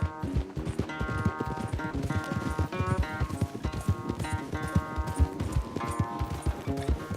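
A horse gallops in Red Dead Redemption 2, its rapid rhythmic hoofbeats pounding steadily under a bed of game music, fairly quiet overall, with no talking.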